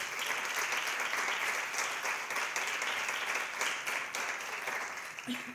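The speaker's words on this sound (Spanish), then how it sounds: "Pues un fuerte aplauso" Steady audience applause at a comics convention panel on feminism in comics, a dense, continuous wash of many hands clapping at moderate level that tapers slightly at the very end.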